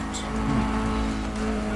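A car drifting in the Need for Speed Undercover video game, a steady engine drone with a faint tire squeal riding over it, loud and continuous.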